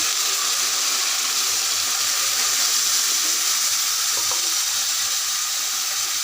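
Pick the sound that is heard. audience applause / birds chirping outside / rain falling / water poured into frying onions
water poured into frying onions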